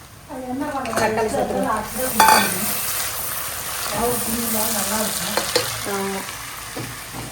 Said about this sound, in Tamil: தக்காளி அப்புறமா இஞ்சி பூண்டு பேஸ்ட் சேர்த்துட்டு நல்லா வதக்கணும்